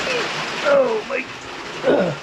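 Heavy steady rain from the remnants of Hurricane Ida falls on a wet lawn, a constant broadband wash with a voice talking over it.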